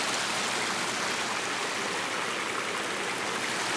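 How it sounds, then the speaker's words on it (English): Water from a garden pond pours steadily over a negative edge waterfall, a constant close rushing splash with no pauses and no voices. "This is our negative edge waterfall, so all the water in the pond overflows here, over here, and here."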